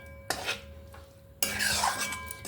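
Gutthi dondakaya curry, Telugu-style stuffed ivy gourd, is spooned from a pot into a serving bowl: two bursts of scraping and clinking utensil sounds, the second longer and busier, close by with no talking.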